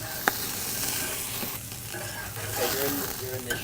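A burger sizzles steadily on a grill over open flame at Dexxters Grill House. The crackling fry stays close and continuous, with a couple of sharp utensil knocks over the hiss.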